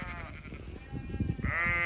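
Ewes bleat close by on a sheep farm, with two drawn-out calls at the start and end of a short stretch, each clear over quiet outdoor background.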